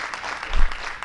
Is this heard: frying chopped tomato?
no